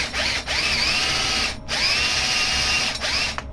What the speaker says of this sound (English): what I'm going to do is probably get a big drill bit